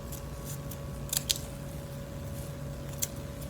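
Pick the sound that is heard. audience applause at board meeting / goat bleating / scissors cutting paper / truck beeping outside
scissors cutting paper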